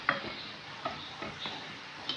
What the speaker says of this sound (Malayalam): ഇത് വറക്കാൻ വേണ്ടിയിട്ട് ഞാൻ സൺഫ്ലവർ ഓയിലാണ് എടുത്തേക്കുന്നത് കേട്ടോ